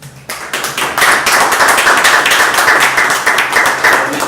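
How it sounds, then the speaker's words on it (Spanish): A crowd at an Argentine talk about the Malvinas war breaks into strong, rhythmic applause after a brief quiet start, loud and close with steady clapping throughout. "pido un fuerte aplauso por él"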